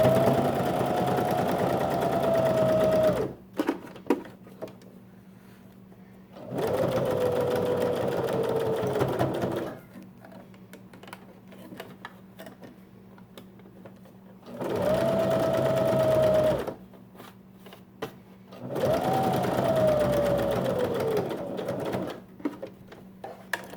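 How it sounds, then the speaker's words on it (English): A sewing machine top stitches a fabric cup mask in four separate runs of steady, close whirring, each a few seconds long, with quiet pauses between them. "Now you're gonna top stitch."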